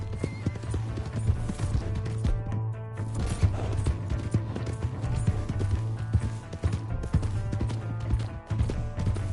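Horse hooves clip-clopping in Red Dead Redemption 2, a loud continuous rapid gallop rhythm close by, running steadily through the whole stretch with game engine hum beneath and no speech.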